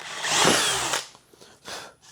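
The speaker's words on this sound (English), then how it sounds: "first I'm gonna drill a pilot hole" A power drill bores a pilot hole in wood for a Halloween lantern project, giving a loud whirring buzz for about a second. After it stops there are quieter clicks and a brief second burst.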